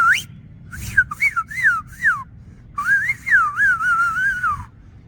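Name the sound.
loud whistle made with the lips, no fingers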